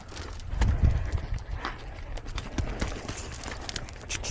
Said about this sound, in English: We'll just let him move out and keep from running over Lewis.